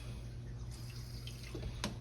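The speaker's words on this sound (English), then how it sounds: "I'm gonna put a little water in the pan, not much." A small amount of water splashes softly into a baking pan in a home kitchen, a faint brief trickle and drip over a low steady hum, with no talk.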